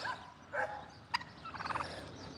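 A turkey gobbles outdoors in a few quick rattling bursts, fairly distant and moderately loud, with a short sharp call between them and no voices.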